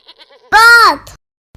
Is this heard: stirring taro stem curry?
no